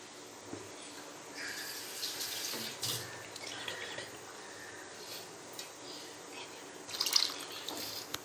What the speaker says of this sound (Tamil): மிக்ஸி ஜாரை கழுவி ஊற்றிக்கிட்டே இப்போ இது நல்லா கொதிக்கட்டும்.